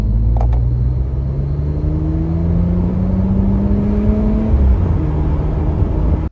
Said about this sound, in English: you get a little bit of induction noise and blow off noise when you let off of the throttle.